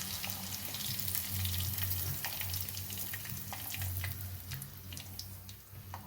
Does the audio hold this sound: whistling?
no